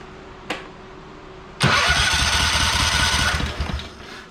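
A small engine is cranked once with a short pop, then catches and runs loud and steady for about two and a half seconds before starting to fade, with no talk over it.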